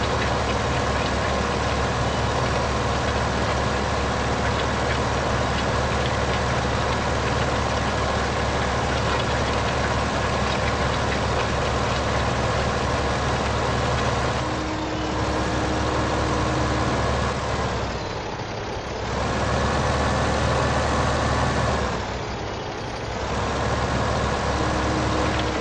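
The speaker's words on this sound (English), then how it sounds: "Come on, tractor, you can make it." Tractor engine in the video game Farming Simulator 15, a loud, steady droning hum that runs without a break and dips briefly twice near the end.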